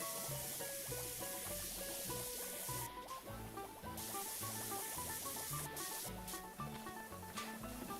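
A pressure washer in PowerWash Simulator sprays in a continuous, loud hissing jet, with brief cutoffs, over busy game music, no talking.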